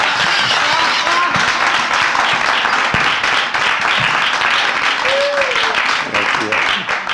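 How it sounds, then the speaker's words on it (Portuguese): Audience applause at a debate event on exile and belonging, a steady dense wash of clapping filling the room throughout, with some crowd murmur and voices mixed beneath it. "Se vocês quiserem aplaudir, pode aplaudir"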